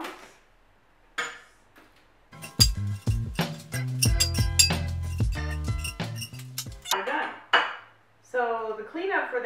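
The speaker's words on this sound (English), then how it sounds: "And I'm just going to remove the potatoes with my tongs." Metal tongs lifting potatoes off the wire racks of a Big Boss oil-less fryer, clanking and rattling against the metal in a close, uneven series of clinks and scrapes, quieter at the start and end.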